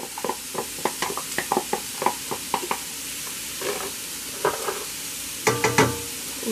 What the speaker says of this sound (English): We're just gonna stir it all together